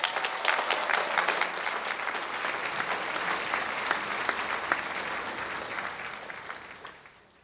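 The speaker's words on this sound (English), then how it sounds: "let's have a round of applause for Wilfred Doucet" A large commencement audience at Claremont Graduate University claps for an honoree, dense sustained applause with scattered sharp claps that fades out at the end.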